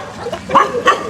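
A dog in the street at night gives two quick, loud barks at a group of young men. The barks are close and come about a third of a second apart.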